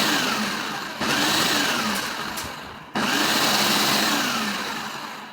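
A blender runs loud and close while it mixes the ingredients for monkey bread, in two pulses with a brief stop between them, its motor pitch sagging under the load.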